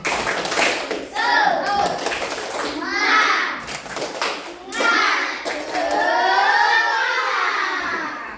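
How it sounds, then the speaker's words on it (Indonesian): A class of children performs the 'tepuk semangat' clapping chant, chanting together with rhythmic bursts of clapping and taps under their voices, close and lively. "Tepuk semangat."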